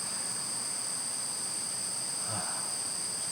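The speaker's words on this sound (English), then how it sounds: "Hear the crickets." Constant high-pitched trilling of crickets fills the background, steady and even, with a faint soft thump near the end and no voices.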